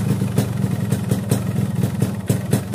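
A Yamaha RX King two-stroke motorcycle engine idles up close after a kick-start, with a steady, loud putter marked by regular sharp pulses and no voices.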